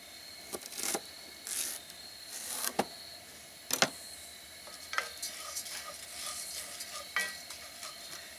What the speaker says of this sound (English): my Farro is toasting up pretty good